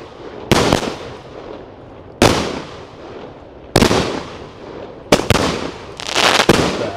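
A daytime Polish firework battery of 25 shots at 25 mm fires about six sharp, loud, echoing bangs at irregular intervals, each with a short rumbling decay, with no talking.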